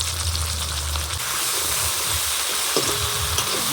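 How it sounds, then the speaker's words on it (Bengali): Onion and tomato fry with ginger paste in a hot pan, giving a steady, loud sizzle throughout with occasional stirring scrapes. No voices are heard. "পেঁয়াজ আর টমেটোটা একটু ভেজে নেব আদা বাটা দিয়ে দিলাম"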